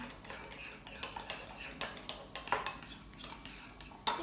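Butter slime made with coloured clay being stirred in a bowl, producing quiet repeated clicking taps and scrapes of a utensil against the container at an irregular pace.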